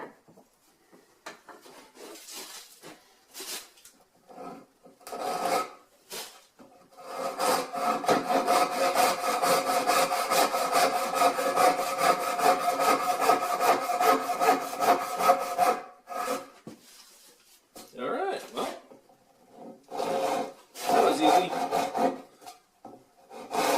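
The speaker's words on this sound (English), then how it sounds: "So we'll just cut it, get that saw going, and go right down to our base line." A hand saw cuts down through wood on a woodshop saw bench, with steady rhythmic rasping strokes close up. A few short starting strokes are followed by a long sustained run of sawing, then scattered shorter strokes.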